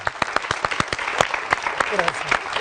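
Sparse applause from a studio audience for a guest on a talk show, distinct claps in an uneven rhythm with a voice speaking over them.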